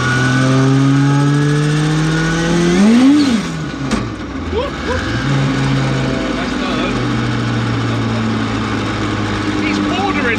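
An 800bhp Mk2 Ford Escort with a Honda S2000 engine and sequential gearbox, loud and close, revs hard with a sharp rising then falling engine note before settling into a steady high drone.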